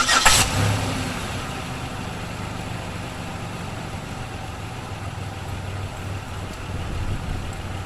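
A 2007 Pontiac Grand Prix engine cranks briefly and catches, then settles into a steady idle that runs on, rising slightly near the end.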